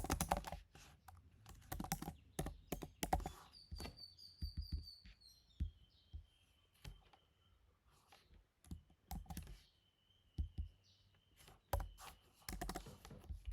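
Computer keyboard typing in bursts of close, clicky keystrokes separated by pauses, with a faint thin chirping tone in the background and no speech.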